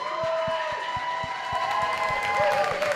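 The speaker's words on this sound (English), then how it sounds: "Big round of applause from you guys, the audience here in London, please." Crowd applause and cheering at a pub awards ceremony in London, a steady wash of clapping and whoops under a sustained tone with regular low thumps beneath, fairly loud throughout.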